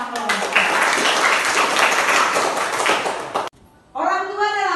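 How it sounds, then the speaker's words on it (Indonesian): A classroom of students clapping for all the groups, a loud, close burst of applause that cuts off abruptly, followed by a teacher speaking. "tepuk tangan untuk semua kelompok."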